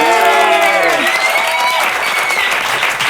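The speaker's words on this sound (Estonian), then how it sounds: "Teeme suure aplausi me kõikidele saadete osalistele" A studio audience applauds at the close of a comedy quiz show, loud dense clapping that continues steadily throughout while a host's voice carries over it.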